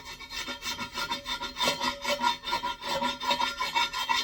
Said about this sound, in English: Hit that with a scraper and it comes right off